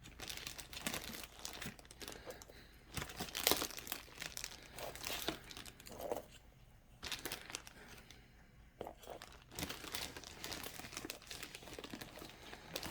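Plastic gallon freezer bag crinkling and rustling as garlic cloves are spread out inside, a close, steady crackle with sharper crunches throughout and no talk.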